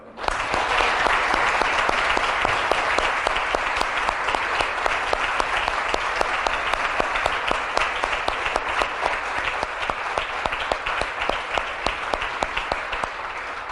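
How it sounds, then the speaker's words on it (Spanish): A church congregation applauding together in a sustained, dense round of clapping that carries steadily from start to finish, full and fairly loud throughout. "Démosle un aplauso al Señor."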